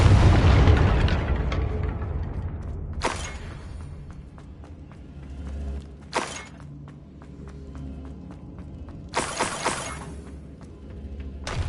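Hogwarts Legacy spellcasting on PS5, Confringo explosions included: a big booming blast opens and decays slowly, followed by several sharp, shattering impacts spaced a few seconds apart, with low rumble lingering between them.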